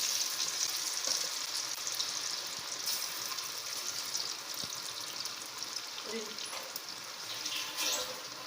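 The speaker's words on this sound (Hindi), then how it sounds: "अब हम इसमें चिप्स आलू शामिल करेंगे, इस तरह फैला के डालेंगे" Potato chips sizzle steadily in hot oil for French fries, a continuous broadband frying hiss with faint clinks and stirring, mid-level and close, with a little talk drifting over it.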